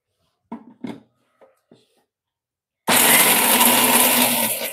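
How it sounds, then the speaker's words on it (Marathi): Mixer grinder grinding dry fruits for laddoos, starting after a few light handling knocks and then running as a loud, steady, close whirring motor drone for the rest of the clip. "ते लावून घेऊया मिक्सरला."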